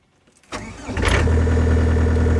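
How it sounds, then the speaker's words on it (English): A joystick-controlled tractor's engine cranks over and catches after about half a second, then settles into a steady, fairly loud idle that runs alone to the end. "So the engine's running right now."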